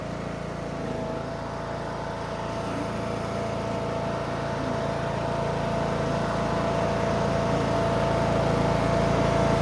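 A John Deere D100 ride-on lawn mower engine runs steadily in third gear just after an oil change, a fairly quiet, even drone that grows slightly louder over time, heard alone.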